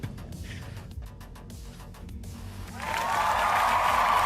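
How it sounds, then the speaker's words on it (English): A crowd breaks into cheering and applause during a Star Citizen livestream, the sound rising into a sustained, fairly loud roar of clapping and shouts over the last second and a half after a quieter stretch. "and the crowd goes wild"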